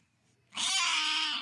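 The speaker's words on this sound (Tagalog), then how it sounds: "Ulit yung alaga kong pusa." A pet cat at home lets out a single loud, drawn-out meow that starts abruptly after a quiet moment and holds for about a second.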